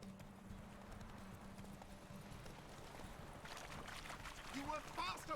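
Roach, a horse in The Witcher 3, clip-clops along steadily at a gallop, hoofbeats under game music and a voice talking and laughing.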